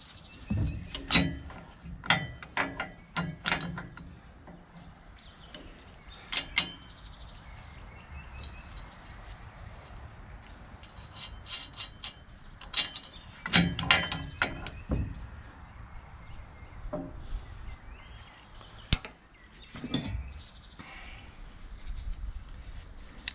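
A ratchet driving a screw into equipment on a Bobcat and Skyjack lift, giving scattered clicking bursts and metallic knocks with quieter pauses between, close by and fairly faint.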